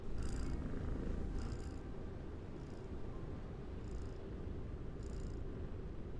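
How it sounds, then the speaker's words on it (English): A cat purrs steadily in a video game, a low continuous rumble under repeated brief high chirps or tinkles, heard alone without speech. "I just like having the cat noise."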